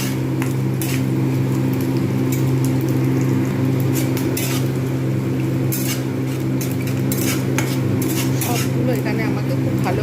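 Black cumin seeds go into taro greens frying in a pan, with a steady oil sizzle and occasional scrapes and clinks of a utensil on the pan continuing throughout.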